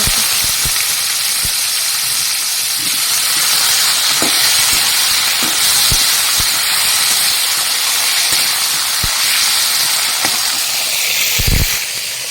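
Cumin, bay leaf and raw banana frying in hot oil, a steady loud sizzle and hiss with occasional sharp clinks of a utensil stirring the pan.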